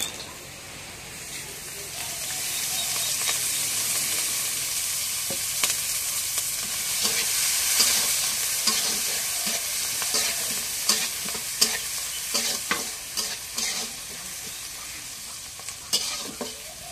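Oil sizzles and spits steadily in a pan as radish greens fry, with scattered crackles and stirring clatter over a continuous hiss, close and fairly loud.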